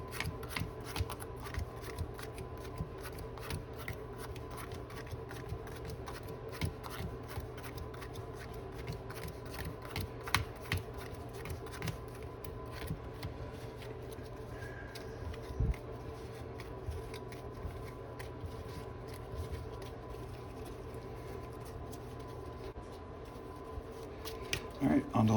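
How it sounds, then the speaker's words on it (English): Yu-Gi-Oh! cards being pile shuffled, a faint series of soft light taps and clicks spread over a quiet background. "quick, another little pile shuffle."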